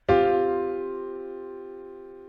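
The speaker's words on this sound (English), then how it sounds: "This next chord that I'm going to show you is called a sus4" A single sus4 chord struck once and left to ring, its clear, sustained tone slowly fading over about two seconds with no voice.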